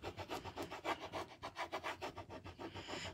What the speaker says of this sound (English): All I'm doing is taking this tool and burnishing these letters onto this wood.